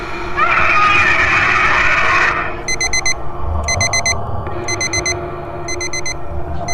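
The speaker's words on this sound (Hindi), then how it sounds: "अलार्म की आवाज सुनकर" A loud electronic alarm clock beeps in repeated bursts of rapid chirps, following a brief burst of shrill ringing at the start, in an animated horror story.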